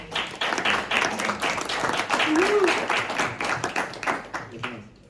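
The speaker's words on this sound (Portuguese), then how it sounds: "Uma salva de palmas, por favor." Audience applause and clapping at a comedy book launch in Lisbon, a dense steady patter of many hands that swells and then tapers off near the end, with a brief voice audible over it.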